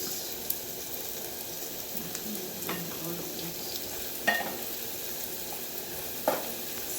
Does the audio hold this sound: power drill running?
no